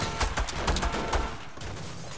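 Rapid gunfire in the Fortnite video game, a burst of sharp repeated shots in the first second and a half that thins into a steadier noisy wash, close and fairly loud.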